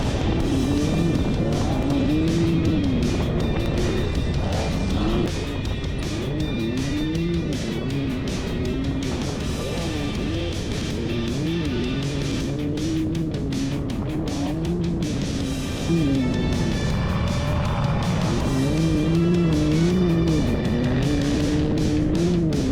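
Off-road vehicle running close behind others through the sand dunes at Glamis, a steady, loud engine drone with rising and falling revs and continuous rushing wind and sand noise throughout, no talking.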